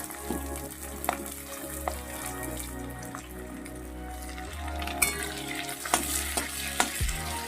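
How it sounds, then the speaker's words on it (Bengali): Chopped onion, one large onion's worth, sizzling in oil in a pan, a steady frying hiss with occasional spatula scrapes and clinks near the microphone, no voices. "তো এটা আমি হালকা করে একটু ভেজে নেব"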